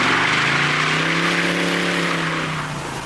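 A 1969 Chevrolet Camaro engine breathing through a Speedy 10 muffler, a loud, close, sustained rev with a steady throaty drone that eases off slightly at the end, no talk.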